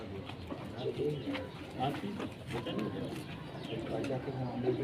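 Pigeons coo softly nearby, low throaty calls repeating, while a person talks over them.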